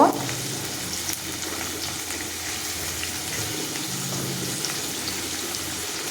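Onions and tomatoes fry together in a pan with a steady, close crackling sizzle that holds evenly throughout, with no voices.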